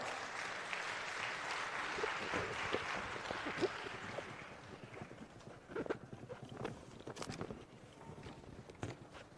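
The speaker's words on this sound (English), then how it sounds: "A big round of applause for sir" Round of applause welcoming a criminology professor to the stage at a conference, loud dense clapping at first that thins into scattered claps and settles toward the end.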